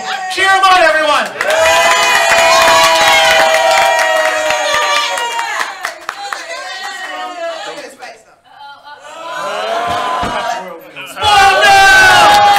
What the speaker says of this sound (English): Cheer them on, everyone!